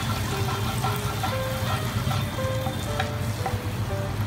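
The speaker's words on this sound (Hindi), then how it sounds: "अब हमने जो बटर लिया था उसको हम इसमें डालकर हल्का सा मेल्ट होने देंगे" Butter melts over a low gas flame in a pan, giving a steady soft sizzle and bubbling hiss with small crackles throughout, close up and without any talking.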